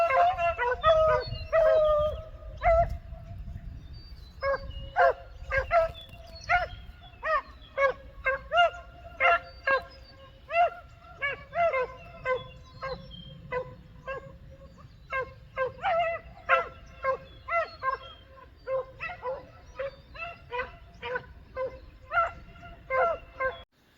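A pack of hunting dogs trailing a rabbit through a thick briar patch, barking steadily with high yips and bursts of howling. The dogs sound moderately distant and keep up a continuous, uneven rhythm of barks for the whole stretch.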